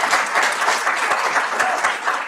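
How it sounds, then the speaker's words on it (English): Sustained, dense applause from an audience at a congressional candidate forum, continuous clapping throughout at moderate loudness with no break. "Remember, folks, hold the applause to the end."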